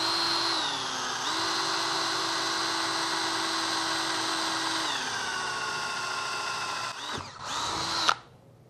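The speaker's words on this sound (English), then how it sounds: "once I start to break through to the back side, I'll reduce the speed of the drill bit and reduce the downward pressure" A power drill bores a hole through an acrylic sheet, a steady high whine running for about seven seconds with slight pitch dips as pressure and speed change, then a brief sputter and surge as the bit breaks through before stopping.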